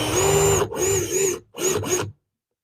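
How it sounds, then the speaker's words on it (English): A countersink bit grinds into a screw hole in a wooden sign in four short, close rasping strokes, two longer then two quick, before stopping abruptly. "countersinking it a little bit so that my screw head has somewhere to sink into"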